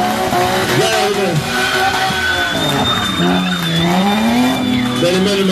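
A drift car's tires squeal loudly on a track at Nafplio, the wavering screech riding over a roaring, revving engine, close and continuous throughout while a commentator talks over it.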